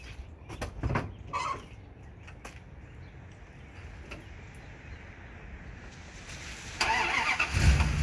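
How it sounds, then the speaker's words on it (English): An old truck engine cranks with several sharp starter bursts, goes quiet, then catches near the end and rises into a loud, rough running rumble. "I'm going to go start up this old truck"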